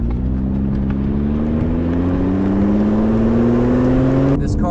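A 2020 Lotus Evora GT sports car drones steadily from inside the cabin, its engine note climbing gradually in pitch as it accelerates over a few seconds before easing off near the end, with no talk.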